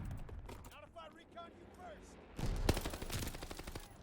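Assault rifle gunfire in the Call of Duty Vanguard beta, starting as quiet mechanical clicks and chirps, then a rapid burst of shots around the middle and continued firing with impact noises.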